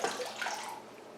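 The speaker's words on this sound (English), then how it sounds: "And then it's dripping water." A freshly watered orchid pot lets water fall in a short, close, splashy trickle that fades quickly.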